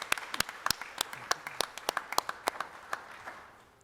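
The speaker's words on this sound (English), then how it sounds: "One more round of applause." Scattered applause from a modest audience at a college business department honors day awards ceremony, distinct individual claps at first that thin out and fade toward the end.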